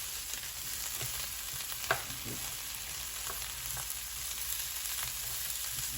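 Onions sizzle and brown in a pan alongside Italian sausage and peppers, a steady low crackle with a few scrapes from stirring, heard alone without voices.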